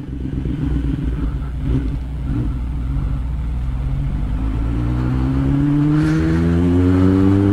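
A Kawasaki Ninja ZX10 sport motorcycle with a straight-through exhaust idles with a rough, lumpy burble close by, then revs up, its engine note climbing steadily in pitch and loudness, with no one speaking.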